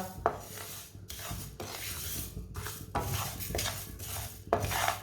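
Whole spices for pickle are stirred and scraped in a pan over low heat. A metal spoon rubs and clatters against the pan in steady rhythmic strokes, close and fairly loud, with no voices.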